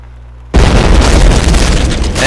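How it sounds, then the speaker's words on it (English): A self-destruct explosion in the video game Happy Wheels erupts abruptly after a quiet moment, then a loud, sustained roaring blast fills the rest of the clip. "so let's watch the explosion then."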